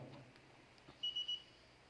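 Three quick, faint electronic beeps in a row sound from a small buzzer in an Arduino ultrasonic sensor project, against quiet background noise.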